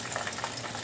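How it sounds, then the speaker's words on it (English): Butterfly shrimp frying in a pan, a steady soft sizzle and crackle that stays constant through a brief moment, fairly faint. "We then cook the butterfly shrimp."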